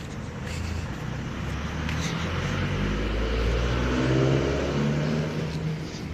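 A car engine hums and gradually rises in pitch as it revs while driving, a steady mid-low drone that swells toward the middle and eases slightly at the end, with no talk.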